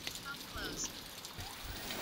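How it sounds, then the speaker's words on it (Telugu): Rain falls outside during the farming season, a soft, continuous patter heard from indoors at low volume, with a few faint sounds scattered over the steady wash. "ఇప్పుడు నేను వీడియో ఇస్తుంటే కూడా బయట వాన పడుతుంది"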